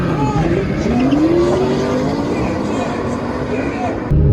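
A McLaren P1 and a Bugatti Veyron launch side by side in a half-mile drag race, a loud continuous engine roar with a rising tone from inside the car, faint tire noise beneath, sustained throughout.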